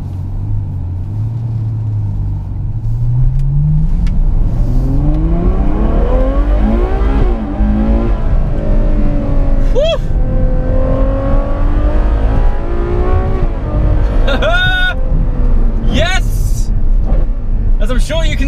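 A Ferrari 812 Superfast V12 pulls away and climbs through the revs on Italian mountain roads, a loud rising engine tone with gear changes and sharp upshift howls, a voice talking over it throughout.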